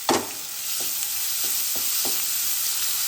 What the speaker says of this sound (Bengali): পেঁয়াজটা আমি এবার একটু লাল লাল করে ভাজবো।